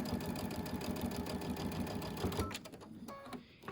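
Sewing machine stitching fabric with a short back tack, making a steady, close, fast mechanical whir that breaks up into uneven stitching and stops near the end.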